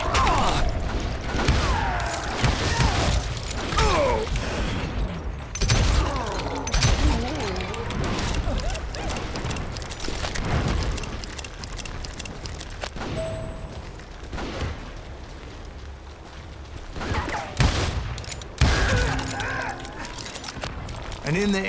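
Dense gunfire and clattering mechanical weapon noise in the Western shooter Call of Juarez: Gunslinger, a continuous loud barrage of shots and impacts with voices talking over it.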